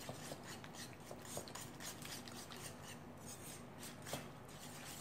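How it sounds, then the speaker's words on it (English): A whisk beating sweet potato, eggs and syrup into a plant-based quick bread batter in a bowl, a faint, steady scraping and clinking that keeps going without speech. "Whisk here."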